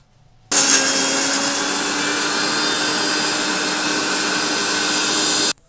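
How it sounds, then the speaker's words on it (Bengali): An electric mixer grinder whirs loudly as it grinds coconut, green chillies, soaked rice and salt, starting abruptly and holding a steady, close motor drone for about five seconds before cutting off. "নারকেল আর লঙ্কা, এটা একটু লবণ দিয়ে এটাকে মিক্সিতে বেটে নেব"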